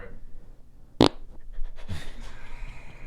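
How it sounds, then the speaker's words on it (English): A single short, sharp fart bursts out loud and close, followed by a brief fainter rasp and some background rustle. "We're lucky it was a fart."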